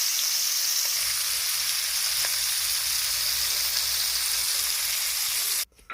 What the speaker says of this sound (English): It don't take that much for shrimp to cook. So we're going to turn it over.